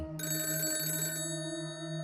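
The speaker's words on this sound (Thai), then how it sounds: "โทรศัพท์ก็ดังขึ้นอีกครั้ง" A telephone ringing with a steady, bright electronic bell tone, close and continuous for about two seconds, its upper shimmer cutting off partway while the lower ringing tones hold on. No voices.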